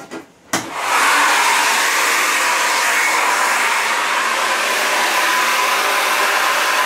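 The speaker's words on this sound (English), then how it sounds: "I'm going to dry it off with a hairdryer" A hairdryer switches on after a brief click and runs at a steady, loud, close whoosh, blowing heat to dry paint on a leather jacket.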